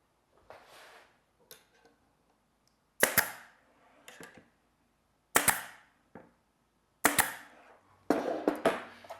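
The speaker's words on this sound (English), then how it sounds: "even when I shoot a nail right through the miter." A pneumatic nail gun drives nails through a glued, clamped casing miter during trim installation, giving several sharp close snaps spaced a second or two apart with a small rattle after each and quiet between them.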